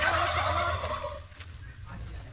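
A turkey bought for a party gobbles loudly and close in a rapid rattling burst, then fainter calls follow over low outdoor background rumble.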